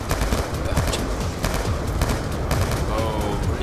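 Dense, loud battlefield din from Call of Duty Black Ops 2: overlapping bursts of gunfire and heavy blasts, including a grenade explosion, pound without pause across the whole stretch.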